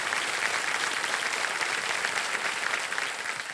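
A studio audience on the quiz show KBC breaks into loud, continuous applause, a dense, even roar of many hands clapping together that holds steady and eases off slightly near the end.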